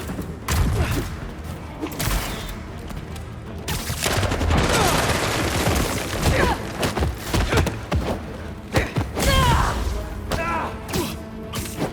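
Enemies opening fire in Marvel's Spider-Man 2, a video game: loud rapid gunfire bursts mixed with crashes, thuds and mechanical clatter, with game voices shouting over the chaos.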